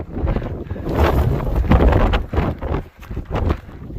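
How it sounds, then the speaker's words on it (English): Strong gusts of wind on frigid White Top Mountain buffet the microphone in loud, uneven rumbling waves that rise and drop over a few seconds. "It's frigid. White Top Mountain. It's windy."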